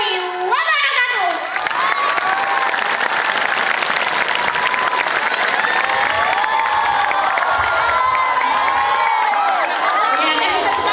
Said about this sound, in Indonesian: kasih tepuk tangan sekali lagi